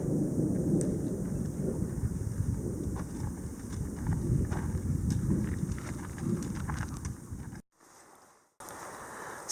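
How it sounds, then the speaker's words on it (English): Low rumbling thunder rolls under steady rain and wind on the Centennial Trail in the Black Hills, South Dakota, with scattered sharp crackles; the sound cuts out briefly near the end before resuming. "Thunder and lightning. It's starting to rain."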